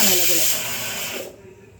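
A pressure cooker on a home kitchen stove lets out a loud, steady steam hiss that cuts off abruptly after about a second, leaving quieter kitchen background.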